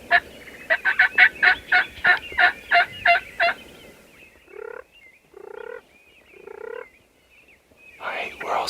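Wild turkey toms gobbling from a roost about 150 yards off on a frosty morning, with a rapid burst of loud rattling gobbles followed by several more distant, spaced calls and a final gobble.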